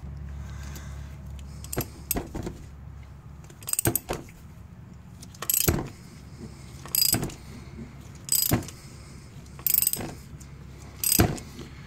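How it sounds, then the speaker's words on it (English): An 18 mm socket on a hand ratchet snugs down a bolt on a 2008 Mazda engine during gasket work. Close, crisp clicking comes in short bursts, repeating roughly every second or two over quiet workshop background. "we'll just take our 18 millimeter and start snugging that down"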